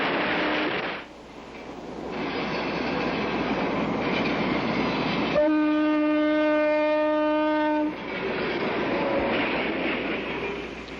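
An automatic freight train rumbles along steadily at close range, with a sustained metallic squeal rising over the noise midway before the rolling clatter resumes.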